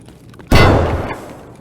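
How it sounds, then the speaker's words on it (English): A single loud gunshot cracks out in Escape From Tarkov during a firefight between scavs, ringing briefly into a decaying tail. "So a whole lot of fire exchange."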